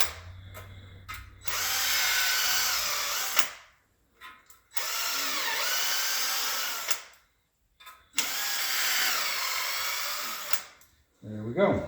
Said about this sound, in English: then blow them all out with some compressed air